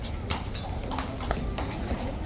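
Horse hooves clip-clop in an uneven rhythm on a hard surface at Horse Guards in London, close by, with faint talking in the background.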